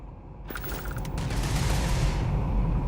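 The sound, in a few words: gunfire from the video game Starfield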